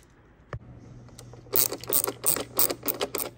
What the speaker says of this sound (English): I'm going to take out one screw and I can replace it with the new one.